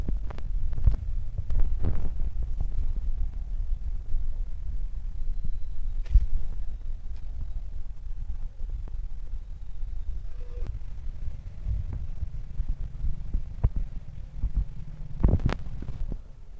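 Kitchen grinder blending black mustard seeds, poppy seeds and cashews into a paste: a steady, low throbbing motor hum running throughout, with scattered sharp knocks and rattles over it.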